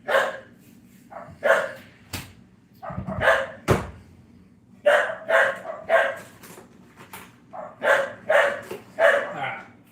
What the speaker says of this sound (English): when firecrackers get lit, dogs are going to bark.